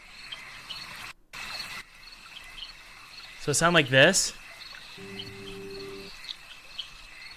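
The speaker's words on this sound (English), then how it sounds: "Bog ambience." Video game bog ambience with a constant cricket-like insect hum and a thin high drone, fairly faint, while a person briefly speaks over it and a soft tonal blip appears later.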